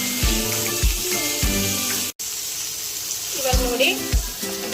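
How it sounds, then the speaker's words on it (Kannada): Fish coated in rice semolina frying in a pan, Karwar style: steady close sizzle and hiss running throughout, with a voice talking over it and a brief cut to silence midway. "ಇವಾಗ ನೋಡಿ, ಇದು ಒಂದು ಸೈಡ್ ಫ್ರೈ ಆಗಿದೆ."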